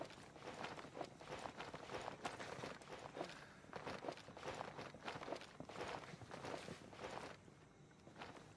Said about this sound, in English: I thought I heard a third set of footsteps over here.